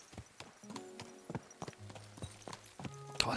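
Horse hooves clattering down wooden steps in the medieval video game Kingdom Come: Deliverance II, a quick series of hard, hollow clip-clop strikes at close range with a sharp louder knock at the end, no talking.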